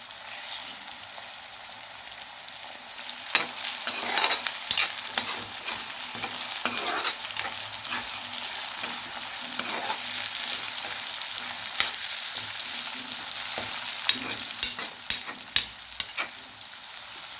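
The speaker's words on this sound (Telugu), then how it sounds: "అల్లం వెల్లుల్లి పేస్ట్ వేసుకున్న తర్వాత పచ్చివాసన పోయే వరకు వేగించుకోవాలి" Ginger garlic paste frying in oil in a pan, cooking for an Andhra gongura curry with dried shrimp: a steady bright sizzle runs throughout, broken by frequent scraping stirs and ladle taps, close and clear with no talking.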